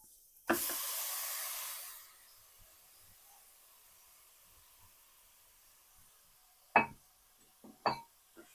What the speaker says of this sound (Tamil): கேரட்டை இதில் சேர்த்துட்டு கேரட்டை நல்லா இந்த நெய்யோட பச்சை ஸ்மெல் போகிற அளவுக்கு நம்ம நல்லா ஃப்ரை பண்ணி எடுத்துக்கலாம்